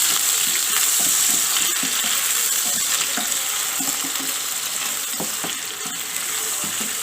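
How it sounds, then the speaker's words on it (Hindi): Onions frying in hot oil in a pan, a steady close sizzle with crackling and occasional stirring scrapes throughout, with no one talking. "इसमें जो है तेल गरम हो गया, इसमें प्याज शामिल करेंगे। प्याज को हम नरम करेंगे।"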